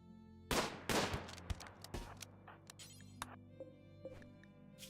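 Colonists fire guns in the colony sim RimWorld: two loud close shots open the burst, followed by a string of lighter, scattered shots and clicks that fade toward the end, with no speech.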